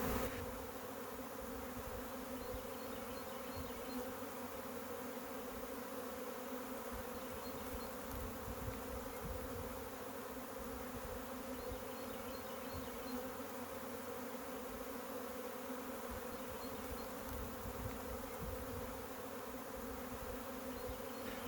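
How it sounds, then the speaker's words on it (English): A honey bee swarm flies toward a nuke box set on top of a ladder, filling the air with a dense, continuous buzzing hum that stays steady and moderately loud throughout, with no voices. "it's been 30 minutes after the first 2 swarms, and we've got another one, and they're heading straight for the nuke on the top of the ladder"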